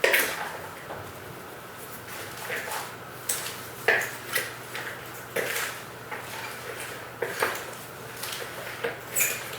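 A salad of lettuce, tomato, onion, cucumber, carrots and cheese is tossed in a bowl, giving close, irregular rustles with light clicks and taps from the utensils.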